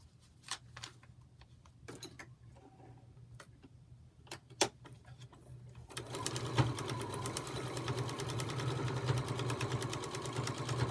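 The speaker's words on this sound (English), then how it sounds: "So, sew from the dotted line out to the dotted line." A sewing machine stitches through many layers of fabric in a hummingbird quilt project, first with sparse ticks and clicks, then a steady, fast mechanical whir that runs close and loud to the end.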